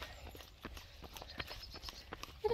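Pony hooves clip-clop at a walk along a path where a half marathon passes in Oss, Netherlands, a steady run of soft knocks under outdoor ambience, with no talk over them.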